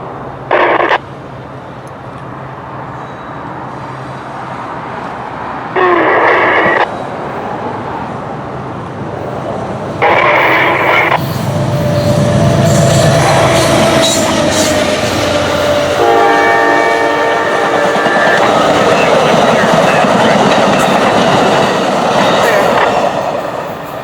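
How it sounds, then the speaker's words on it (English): Amtrak 91 passenger train heading for Tampa and Miami passes close by and loud, sounding several short horn blasts before the steady roar and clatter of the cars rolls through. "it was now time for Amtrak 91 to come through on its way to Tampa and Miami"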